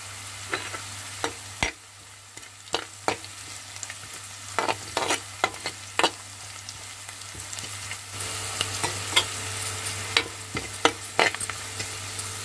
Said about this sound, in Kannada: ಈಗ ನಾನು ಕರಿಬೇವು ಮತ್ತು ಹಸಿರು ಮೆಣಸಿನ್ಕಾಯಿ ಹಾಕ್ತಾ ಇದ್ದೀನಿ.